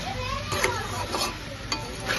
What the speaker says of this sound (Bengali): আলু পেঁয়াজ ভাজা হচ্ছে